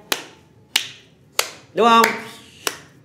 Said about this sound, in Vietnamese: Hoặc chúng ta vỗ tay